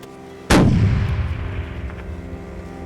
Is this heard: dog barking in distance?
no